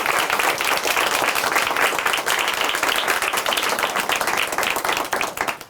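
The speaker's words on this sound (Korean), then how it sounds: "다시 한번 박수로 응원해 드리도록 하겠습니다" Sustained applause from a studio audience at a Korean Christian testimony television program, dense, steady clapping filling the whole stretch at an even loudness with no talk over it.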